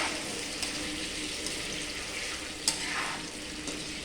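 Hot cooking oil sputtering and crackling in a pan after water is poured onto sugar and banana slices, a steady fizzing sizzle with a few sharp pops, moderately close and without speech.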